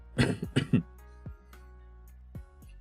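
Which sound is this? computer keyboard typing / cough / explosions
cough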